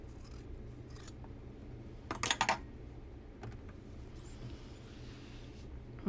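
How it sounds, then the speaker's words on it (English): Scissors snip through cotton batting to trim a quarter inch off the edge of a fabric pot holder, giving a brief cluster of crisp close cuts over quiet room hum, with a few faint rustles around them. "I'm going to trim off a 1/4 inch of the batting off of the edge."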